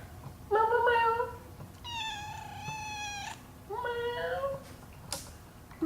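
A cat meows several times close by, drawn-out, wavering cries with short pauses between them.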